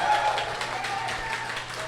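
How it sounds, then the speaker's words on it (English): A live comedy podcast audience applauding and cheering, a steady wash of clapping with scattered whoops, moderately loud and without clear talk. "Shout out to the one guy who was like, I'm starting this cheer, and you saved us."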